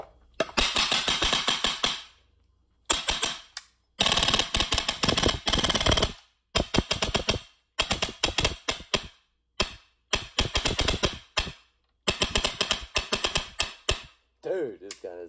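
G&G SSG-1 airsoft rifle fitted with an F-1 unit, fired in rapid full-auto bursts: several sharp, close clattering volleys separated by short pauses, loud and crisp, with a brief voice near the end.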